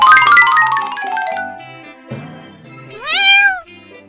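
A cartoon kitten gives a few high, bright meows, the last one a clear rising-then-falling mew near the end, set among softer tonal sounds with no talk over them.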